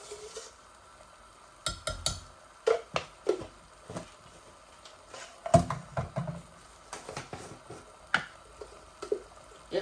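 Spice powders being stirred and mashed into mutton bhuna with okra in a pan: irregular wet squelches and spoon scrapes come in short bursts, close up over a faint sizzle, with no talking.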